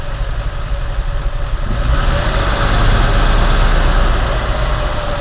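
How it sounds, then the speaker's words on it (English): A 1971 BMW 2500 engine idling, then revving up with more throttle and holding a louder, steady higher-pitched drone, heard close and alone. "So let's give it a little more gas."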